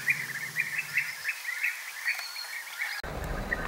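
European bee-eaters at Lake Neusiedl give repeated rolling, trilled calls from a distance, steady and moderately faint over an outdoor background with no talk.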